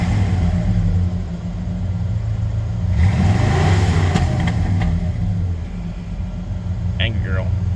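A restored 1968 Ford Galaxie 500 engine idles and revs up in one rising burst near the car, as people talk over the rumble.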